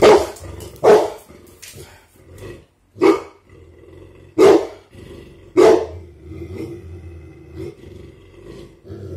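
A dog barks and growls in loud, separate bursts at its own reflection, roughly six deep barks spaced a second or two apart, with low growling rumbles between them and no talking.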